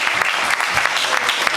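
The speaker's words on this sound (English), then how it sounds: "I want to give applause for all you guys" Audience at a San Jose youth poetry event applauding, a dense burst of many hands clapping together, loud and close, with some voices mixed into the crowd.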